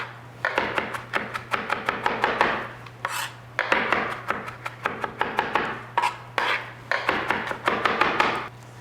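A knife chops garlic on a cutting board in quick, steady bursts of sharp taps, repeated across several runs with brief pauses, close and clear with no talking.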